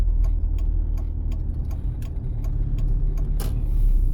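A car's right turn signal ticks steadily inside a driving-test car on a city street in Rivne, a regular run of about a dozen clicks over a low engine and road rumble, with no talk.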